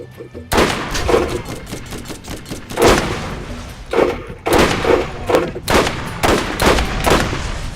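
Repeated booming shots from the Rider, a sniper rifle with a Type 2 barrel firing explosive rounds in Borderlands, landing at a slow, uneven pace, each crack followed by a short thudding blast over constant background noise.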